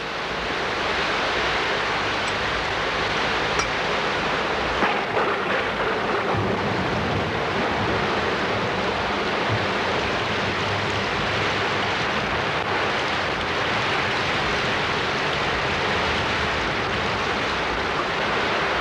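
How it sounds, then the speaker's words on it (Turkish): Dense, steady roar of heavy rain pouring down continuously, loud and unbroken with no voices. "Yağmur hızlandı."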